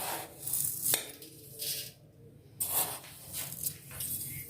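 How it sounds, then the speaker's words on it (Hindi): Sugar poured and spread over a layer of cooked rice while making zarda, soft granular hissing and rustling pours in several short spurts, with faint scraping from a utensil, quiet and close. "अब हम इसमें ये चीनी डालेंगे।"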